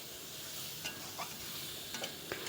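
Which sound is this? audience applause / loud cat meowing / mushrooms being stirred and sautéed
mushrooms being stirred and sautéed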